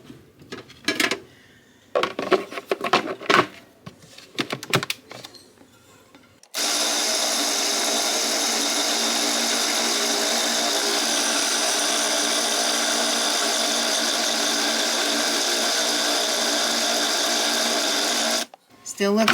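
A blender mixes lentil bun dough with a loud, continuous high-pitched whir that runs for about twelve seconds after a stretch of clattering and handling sounds, then cuts off abruptly.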